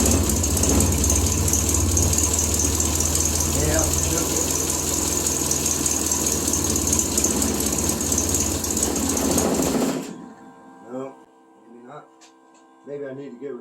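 A Triumph Spitfire engine runs at its first start-up in months, a loud, steady broadband idle that holds for about ten seconds and then cuts out abruptly, leaving quiet with faint bursts of talk.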